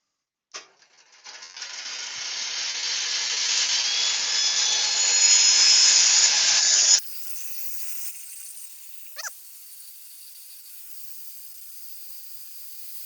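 Rotary tool mounted on a lathe jig cutting a dovetail, a steady high-pitched whine with grinding rising over about six seconds, then a sudden drop to a lower hum, with a brief squeal near the end.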